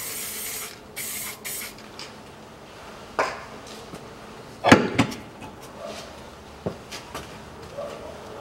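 Lubricant sprayed from an aerosol can onto the lower bolt of the rear suspension on a Toyota Harrier: a few short, sharp hissing spurts over steady workshop background noise, heard close and alone without speech.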